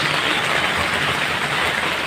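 Steady rain falls during the rainy season, a dense even hiss of drops on surfaces, loud and constant with no voices.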